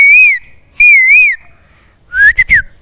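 A young boy of about seven or eight mimics an Asian koel with his voice, giving two long rising-falling whistled calls and then a quicker burst of three sharp notes, loud and close with no other sound.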